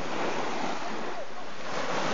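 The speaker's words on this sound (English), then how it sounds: "Being right next to the sea." Sea waves wash onto a beach in Madagascar, heard close and loud as a continuous rushing surf with some wind noise.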